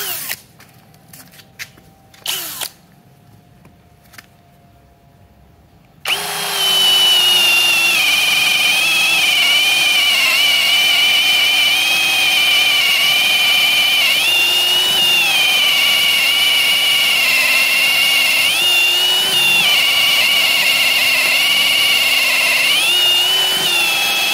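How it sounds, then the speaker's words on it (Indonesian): After a few seconds of quiet clicking, a Ronix 8900K cordless brushless drill with a 12 mm wood bit starts and runs loud and continuous, its pitch dipping briefly as it bites into mahogany. "kita akan menggunakan mata bor ukuran 12 mm. Mata bor kayu juga, medianya masih sama di media kayu mahoni"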